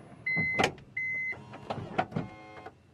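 Two electronic warning beeps followed by the whir and mechanical clunks of a Toyota Sienta's power sliding door closing automatically, ending with a latch.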